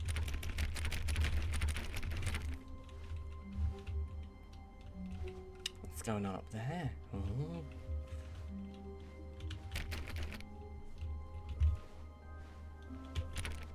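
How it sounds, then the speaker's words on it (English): Computer keyboard keys struck hard while playing Stanley Parable Ultra Deluxe, a dense burst of rapid clattering typing at the start, then sparser clicks under game music and a voice that speaks briefly. "You can hear me just slamming the fucking keyboard keys loudly."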